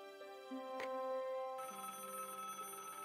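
A telephone rings in the video game Baphomets Fluch (Broken Sword), a clean electronic ringing tone that shifts pitch partway through, with a short click near the start and nobody talking.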